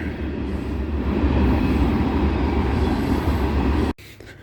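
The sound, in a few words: elevated train passing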